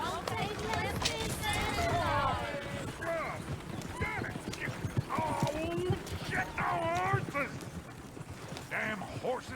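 Horse hooves clop along in an uneven rhythm in Red Dead Redemption 2 while voices chatter and call out over them, with a brief whinny.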